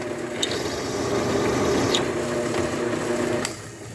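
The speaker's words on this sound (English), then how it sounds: "Now we'll give both sides just a little touch with the countersink." A continuous mechanical whir with faint scraping and a few brief clicks, like a countersink bit chamfering a drilled hole in metal on a running machine, on a Land Pride RB1660 rear blade.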